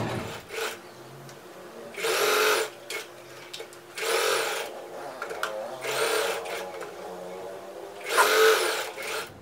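A sewing machine stitches blouse fabric pieces beside canvas for a homemade fabric door hanging, running in several short, loud bursts separated by pauses and faint handling sounds.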